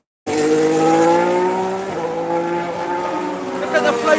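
A Haas Formula 1 car accelerating out of the pits lets out a loud, close, high engine whine that climbs in pitch, steadies, then climbs again as it pulls away, with voices faintly underneath.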